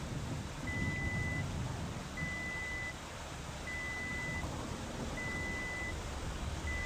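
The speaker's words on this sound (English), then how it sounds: "that repeated beeping you can hear" Electronic beeps from the Tornado: Research and Rescue video game repeat at a steady, evenly spaced rhythm, four clear tones over a constant rumbling wind-like background with no talking.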